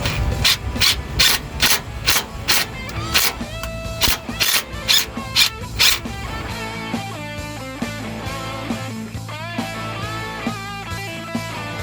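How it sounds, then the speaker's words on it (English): Belly pan bolt holes on a D6N dozer are tapped out with a tool, producing a run of rapid, evenly spaced harsh grinding strokes up close, followed by a quieter stretch of scraping and metallic shifting. "You won't have to tap out belly pan bolt holes."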